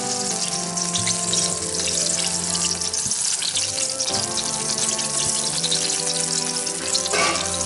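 Garlic frying lightly in hot oil in a home kitchen, a steady loud sizzle and crackle running unbroken throughout, with no talking.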